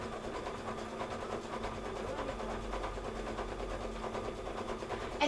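A sewing machine stitches shadowing along a quilt border, its motor humming in a steady, continuous run at close range with no talk over it.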